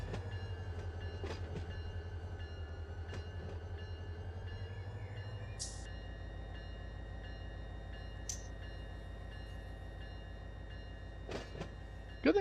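A train pulling forward in the Run8 Train Simulator game on the Mohawk & Selkirk line: steady low engine rumble and rolling drone, with the pitch shifting midway and occasional sharp clanks and squeals from the cars.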